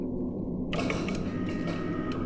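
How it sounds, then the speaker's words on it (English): Heavy vault doors slowly grind open in an audio drama, a steady mechanical creaking and whirring with faint ratcheting clicks, sustained and fairly close with no voices. "The vault doors behind General Castro and Dr. Bath opened slowly."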